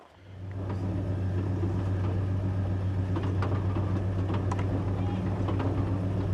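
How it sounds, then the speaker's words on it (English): Motorcycles on a street, a loud low rumbling engine drone that swells in within the first second and holds steady, with faint background activity. "People are driving their motorcycles."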